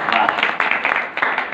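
Applause rises from the crowd at a devotional Harinam Saptah gathering, dense and steady throughout with a few brief dips, packed with many overlapping hand claps.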